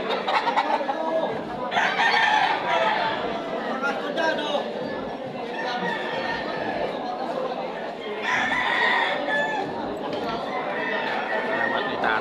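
Several fighting roosters crow and cluck over a busy background of people chattering nearby, the crows rising repeatedly through the noise.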